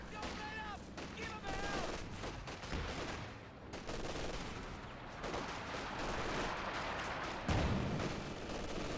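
Gunfire from a Company of Heroes 2 multiplayer battle, with dense crackling bursts of small-arms and heavier fire layered over constant battle ambience and a deep impact near the end.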